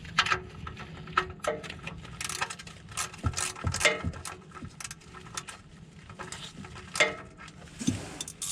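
A ratchet tightens the oil drain bolt under a 1999 Honda CR-V, giving repeated close clicking strokes in irregular bursts with small metallic knocks between them.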